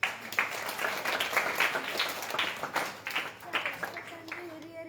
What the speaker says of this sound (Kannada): ಓಕೆ, ಚಪ್ಪಾಳೆ ತಟ್ಟಿ